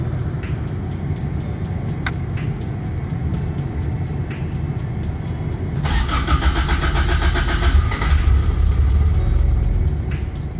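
A Toyota AE86 that has had an IACV block-off plate fitted starts up from cold. Steady idle ticking and clatter come first, then the engine catches with a louder rush and rises to a fast, raised idle.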